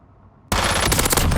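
Rapid gunfire from a video game gun on a shooting range bursts in after half a second of near silence, loud and continuous with dense repeated shots.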